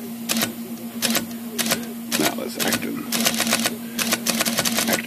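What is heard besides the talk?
IBM Selectric typewriter running, backspace repeating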